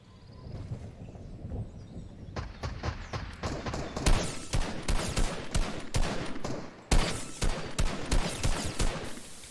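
Rapid bursts of auto rifle fire in a shooter video game, loud close volleys of sharp cracks arriving in dense clusters, with brief pauses between strings and a thudding low rumble underneath.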